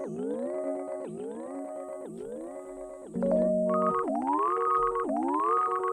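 Hologram Electronics Microcosm effect pedal producing a glide with a ramp-up shape: layered pitched tones repeatedly rise in sawtooth sweeps about once a second, with a steadier held chord midway before the ramps resume, continuous and moderately loud.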